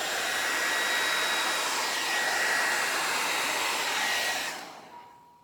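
A hair dryer blows steadily and loudly across wet acrylic paint during a Dutch pour, a constant rushing whir that cuts off near the end and leaves a faint tail.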